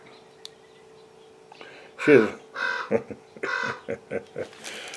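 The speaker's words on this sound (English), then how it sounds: "Do you hear the crow? Corvus Corax." A raven's deep, hoarse croaks ring out several times in a loose series, fairly close and loud, after a quiet start with faint background sounds.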